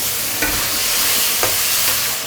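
Garlic scapes stir-fried with shredded pork and bean paste in a wok over high heat make a loud, steady hiss, broken by a few sharp scrapes of the spatula as the food is tossed.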